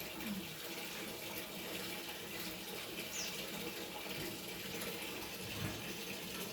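Water runs steadily with a soft, continuous splashing hiss, fairly faint and even throughout, with no talking.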